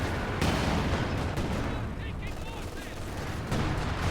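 A Panzerwerfer rocket barrage in Company of Heroes pounds away as a thick, sustained wall of blasts and crackling fire, loud throughout with a few sharper hits, while a commentator talks over it.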